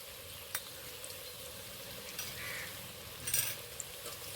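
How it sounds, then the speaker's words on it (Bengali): Jackfruit fries in goat fat in a pan, a faint steady sizzle with a few quiet stirring knocks and scrapes. "এবার বেশ কিছুক্ষণ ভেজে নেব"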